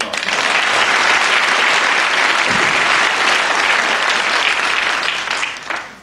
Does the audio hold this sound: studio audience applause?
yes